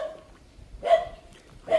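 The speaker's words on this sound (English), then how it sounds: "I hear dogs barking." Dogs bark in the distance while a man walks outdoors in Chiang Rai, two short, faint barks about a second apart against a quiet background.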